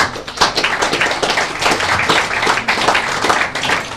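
An audience applauds a well-known boxing trainer at a 1999 fight show, a loud, steady wash of clapping from many hands that fills the moment without any talk.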